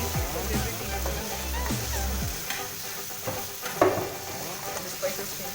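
Spices, paprika and black pepper, frying and being stirred in a pan for vegan pasta: a soft sizzle with scraping spoon strokes, while people talk nearby.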